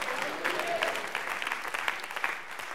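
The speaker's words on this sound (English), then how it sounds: "Clap your hands, everybody," A church congregation claps during a sermon on prayer, giving a quiet, fairly distant patter of clapping with distinct claps and a faint murmur underneath.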